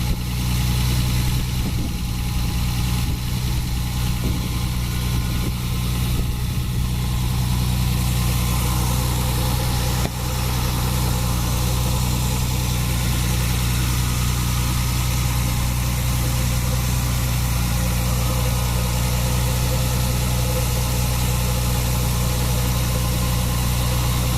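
A Toyota Supra MA70 with a 2JZ-GE engine idles steadily in a mall parking lot, a low continuous rumble held at a near-constant level from start to finish with no voices.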